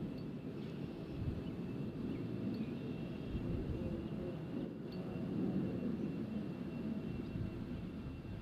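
A FedEx aircraft at Nashville International Airport on a windy day, heard as a steady, distant jet rumble blended with gusting wind noise across the whole stretch, with no talk over it.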